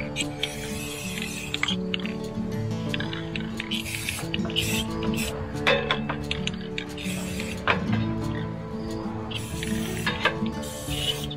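Rust-Oleum black spray paint goes onto a Husqvarna Z52 mower in short hissing bursts, mixed with soft clunks and scrapes as the can is moved around the deck.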